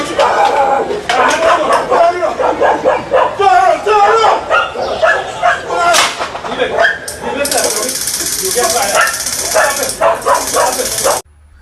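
A dog barks and yips repeatedly in loud bursts during a police encounter with its owner, while several people talk and shout over the noise.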